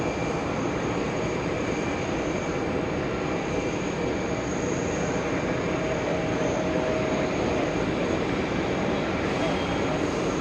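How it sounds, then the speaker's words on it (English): A JetBlue Airbus A320 pushing back at JFK airport, a steady loud broadband roar of jet engines with a high whine, continuous and close throughout, no other distinct sounds. "We have JetBlue pushed back. That's what's giving us all this amazing sound."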